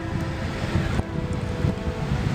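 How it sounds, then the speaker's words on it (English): Pacific Ocean surf near Santa Monica, heard from high above the shore, gives a steady distant wash of waves blended with wind buffeting the microphone, with no voices. "There's the ocean down there."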